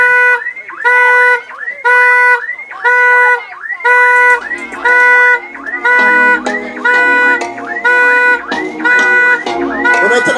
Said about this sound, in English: You know turn off the alarm.